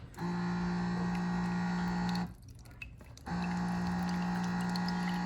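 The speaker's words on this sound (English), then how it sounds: "you can actually just have it disperse warm water for you" A Baby Brezza formula machine on its medium setting dispenses about 4 ounces of warm water, a steady pump hum and running water with a brief pause in the middle before the flow resumes.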